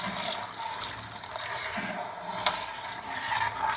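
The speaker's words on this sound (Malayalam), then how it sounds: "കുറച്ചൊരു വെള്ളം ചേർക്കാം അല്ലേ?" Water is poured into a pan of aracha payasam with ground coconut over a raised flame, giving a steady close splashing and trickling that lasts throughout, with a single sharp knock midway.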